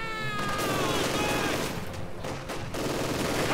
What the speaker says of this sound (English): Oh, conscript getting caught in the open here by the light machine gun.